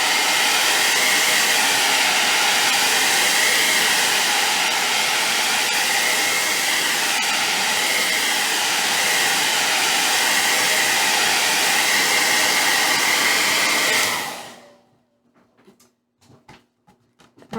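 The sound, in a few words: drying varnish with a hair dryer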